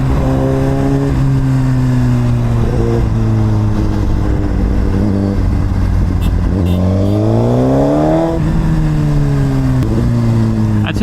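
A Suzuki GSX-R 1000RR sportbike engine revs loudly and close, its tone climbing and dropping sharply through quickshifter gear changes while riding on the road.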